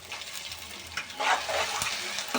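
Chopped tomatoes go into a pan of frying garlic for lasun methi, giving a soft close sizzle with light stirring scrapes that swell slightly after the first second, no voices.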